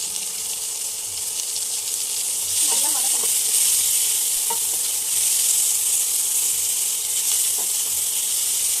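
Shallots and tomatoes sautéing in hot oil in a pan, a steady dense sizzle that swells slightly midway, with a few soft stirring scrapes and no talk.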